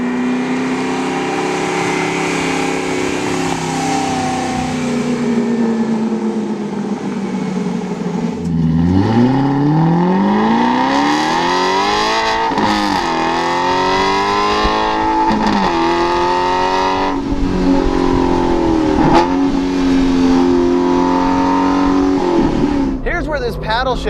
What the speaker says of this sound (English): The tires are clawing and scratching for traction.